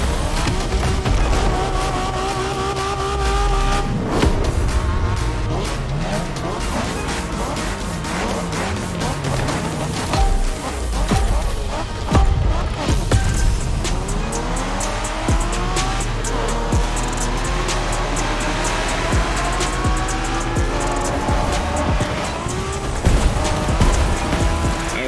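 Race car driving in The Crew Motorfest video game, with a constantly revving engine, shifting pitch sweeps through gear changes, and repeated tire squeals and skids, loud and busy from start to finish.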